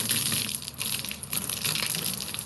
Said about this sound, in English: This is a shower.